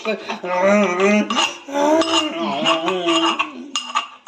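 Garlic and chili are crushed for an Odia prawn chutney, making repeated clinking, scraping knocks of utensils against a dish, with a voice talking throughout.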